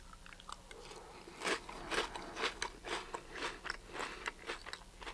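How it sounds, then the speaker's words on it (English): Close, crunchy chewing of Truly peanut butter protein cereal eaten from a spoon, a quick irregular run of crisp bites and crunches, fairly quiet with no talking. "Gonna try out my peanut butter cereal, Truly cereal."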